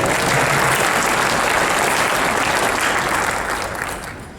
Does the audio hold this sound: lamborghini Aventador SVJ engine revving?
no